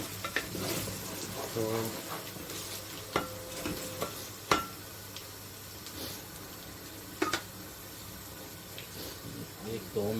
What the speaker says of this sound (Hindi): ताकि ये थोड़ा सा जिंजर गार्लिक जो है वो रोस्ट हो जाए।